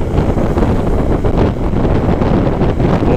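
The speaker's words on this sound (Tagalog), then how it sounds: "Parang malakas lang talaga yung hangin kasi hindi umuulan." Strong coastal wind buffets a microphone on a moving Honda PCX 160 scooter, a loud dense roaring rush with gusty swells and no voices.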